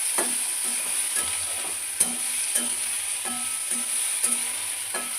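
Potatoes frying in plenty of oil are stirred at a steady pace, with a continuous close sizzle and soft scrapes of the spatula against the pan recurring about every half second.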